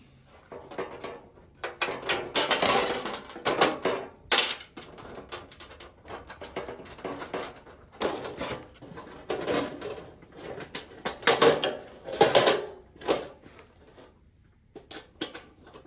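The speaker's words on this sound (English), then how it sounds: "Okay, so you do bolt on the bottom, nut on the top." Bolts and nuts being fastened by hand while assembling an outdoor patio heater, a close series of irregular metallic clinks, taps and rattles with short pauses between them.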